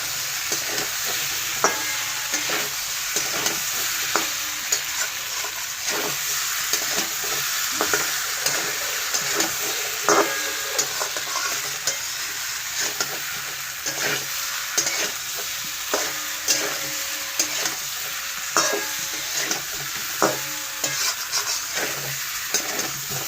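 Potatoes and egg stirred while frying in a pan, a loud continuous sizzle broken by frequent rhythmic scrapes and taps of the spatula, close and steady throughout.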